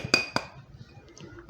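Grated ingredients drop into a steel mixer grinder jar with two sharp metallic clinks close by, then soft faint rattles and a final clink at the end.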